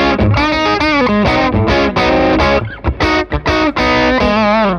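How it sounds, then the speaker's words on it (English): A Stratocaster electric guitar played through a Dumble-style low-gain overdrive pedal with the tone rolled back, giving loud, continuous chords and riffs with a few short pauses and no talking. "So that's quite a nice low gain overdrive sound. It sounds great with a Strat."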